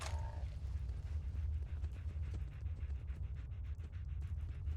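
A dog pants rhythmically in the Fallout video game, quick breathy puffs repeating steadily over a low rumbling background, fairly faint and close.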